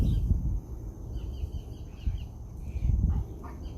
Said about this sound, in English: there's some strange noises going on with these birds